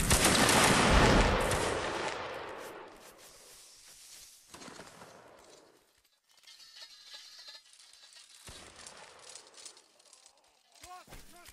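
Musket volleys ring out in a video game line battle. A loud, dense crackle of massed gunfire rolls and fades, then scattered and more distant shots follow, with a few sharp reports near the end and voices talking over parts of it.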